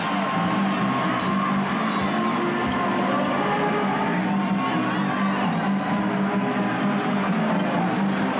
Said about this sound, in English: And now the crowd trying to get into it